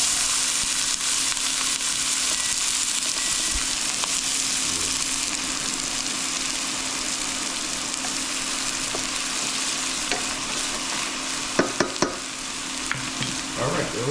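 Onions frying in hot olive oil, a continuous close sizzle that stays even throughout, with a few light clicks of a utensil near the end.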